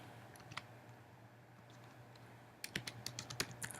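Typing on a computer keyboard, a quiet room that turns into a quick run of close key clicks near the end.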